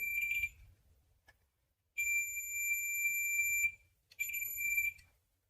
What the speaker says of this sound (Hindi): बीप का आवाज कर रहा है, इसका मतलब फ्यूज ओके है।